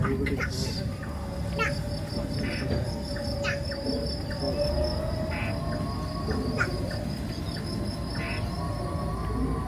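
Crickets chorus through a night-time tropical forest at a wildlife park in Singapore, a steady layered trill with scattered chirps and calls over a constant low hum, moderately close and continuous throughout.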